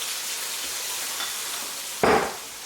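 Chicken sizzles steadily in a hot pan for sweet and sour Thai pad priew wan, a constant frying hiss that swells with a sudden louder burst of spattering near the end as the food is stirred.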